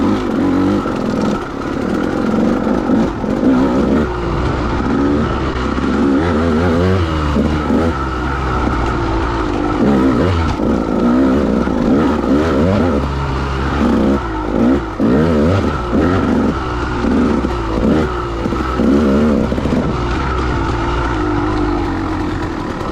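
A KTM dirt bike ridden around the Clough State Park trail, its engine climbing onto the pipe with loud, steady revving and repeated rises and falls in pitch, close up with no talking.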